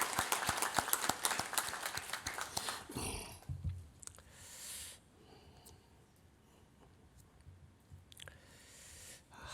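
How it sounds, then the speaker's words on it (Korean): A church congregation briefly clapping to welcome a new mother at her first service after giving birth, a short burst of sharp claps at the start that quickly fades into quiet room noise with faint rustles. "박수로 환영만 합시다"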